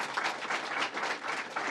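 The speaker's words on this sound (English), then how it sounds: "Let's give him a round of applause." Audience at a school event with the New York governor gives a short round of applause, a steady, fairly soft wash of clapping lasting under two seconds.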